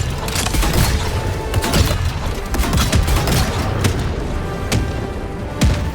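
Repeated mortar shells firing and landing in Helldivers 2, a dense run of booms and thumps with sharp impacts throughout, loud and close, with no talk.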